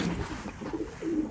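Bankay breed pigeons coo softly in a Lahore pigeon loft, a short low murmuring call heard close by.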